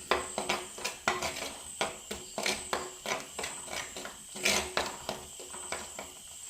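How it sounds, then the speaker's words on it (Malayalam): Quiet, rhythmic scraping and tapping as a spoon stirs ground ginger, onion and tomato paste frying in oil in a pan. The strokes are steady and evenly spaced, with a faint background hum. "കൈ എടുക്കാതെ ഇതേപോലെ ഒന്ന് ഇളക്കി കൊടുത്തുകൊണ്ടേ ഇരിക്കണം"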